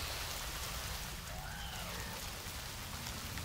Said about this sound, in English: Freezing Rain, excuse me, Healing Rain.